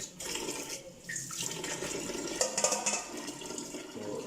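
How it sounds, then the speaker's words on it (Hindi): Fresh water pours into soaked wheat grain in a container at home, a splashing, gurgling fill lasting a few seconds, close and moderately quiet. "नया पानी हम इसमें ऐड करेंगे"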